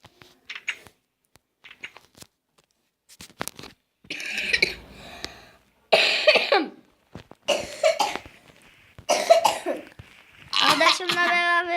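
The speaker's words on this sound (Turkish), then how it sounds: "Şey, ben de çok öksürüyorum." A person coughing, with sharp bursts separated by pauses and some talk mixed in.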